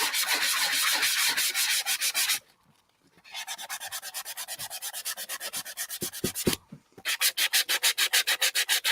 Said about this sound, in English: sand some of that off all the way around to prep the box.